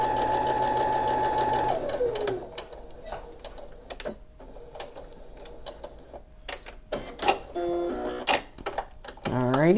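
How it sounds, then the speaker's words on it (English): A sewing machine running a quarter-inch seam on quilt pieces, a close rhythmic whirring stitch that winds down after a couple of seconds, followed by clicks and handling noises while someone talks. "And we're just going to do our 1/4 inch seam all the way down."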